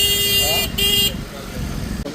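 Busy traffic crosses a bridge over the Godavari river in Nashik, with engines droning close by and a car horn tooting twice over the steady road noise.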